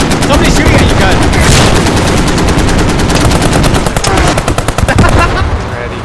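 Loud, rapid automatic gunfire in a video game rattles in dense bursts for several seconds, close and continuous.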